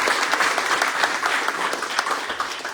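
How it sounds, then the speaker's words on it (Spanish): Steady clapping from an audience at a book presentation, a full, even patter of many hands sustained at moderate loudness with no speech over it. "para quien pido un fuerte y caluroso aplauso"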